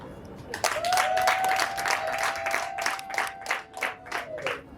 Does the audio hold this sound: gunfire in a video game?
no